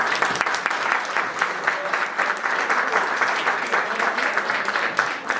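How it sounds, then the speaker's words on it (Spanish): Conference audience at a sports congress in New York applauds athletes who took part in the Games, a steady, fairly close burst of clapping that holds evenly throughout. "4 aplausos para ellos"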